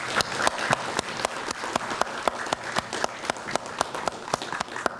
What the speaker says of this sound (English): Let's just give another round of applause to all the students.